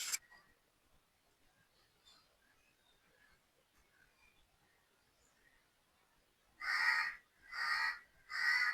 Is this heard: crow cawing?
yes